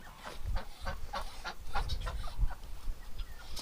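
A hurt duck being herded into a shed gives repeated short quacks and calls alongside rustling and footsteps, with no talking.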